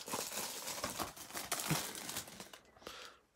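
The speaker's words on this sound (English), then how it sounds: "So taking this plastic off." Plastic shrink wrap is peeled off a Blu-ray box set, making close, continuous crinkling and crackling with sharp tearing bursts that fade away at the end.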